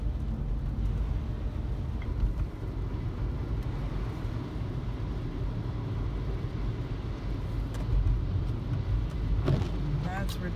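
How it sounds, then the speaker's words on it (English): Road traffic in snowy Atlanta weather makes a continuous low rumble of car engines and tires, steady throughout, with no clear single vehicle standing out. "All of this freaking traffic, y'all."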